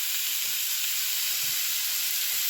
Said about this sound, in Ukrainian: Там зараз під лавашиком смажиться фарш яловичий.